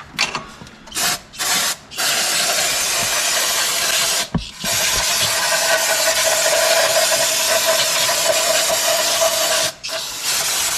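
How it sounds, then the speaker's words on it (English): Carburetor cleaner is sprayed onto the carburetor of a 1976 Chevy K20 pickup. A few short hissing bursts come first, then one long, loud continuous spray close to the mic, and no talking is heard. "I'm gonna spray this carburetor down a little bit."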